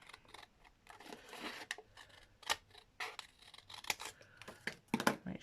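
Scissors snipping through a paper rectangle for a junk journal page tag, a close series of crisp, uneven cuts with short pauses and a few sharper snips near the end.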